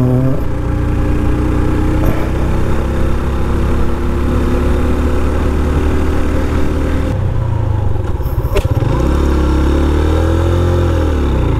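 Honda CB 150F motorcycle, 2021 model, climbing a hill: a loud, close single engine droning steadily under load, its pitch dropping and wavering near the end as it labors on the grade; no talk.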